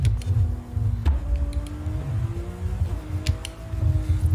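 Gear shifts on a car driven with paddle shifters in a racing sim, the engine note droning steadily and stepping in pitch at each change, several shifts in quick succession.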